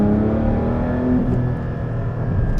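Naturally aspirated 4-liter flat-six of a Porsche 718 Spyder fitted with an Akrapovic exhaust, revving steadily and loudly close by, a dense continuous engine roar with rising and falling pitch and no talk.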